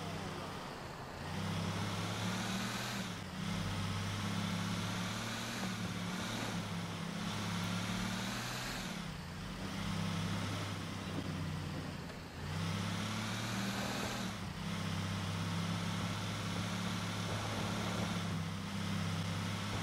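A truck drives along in GTA IV, its steady engine drone holding low and even for the whole stretch with small dips and surges as it moves through traffic.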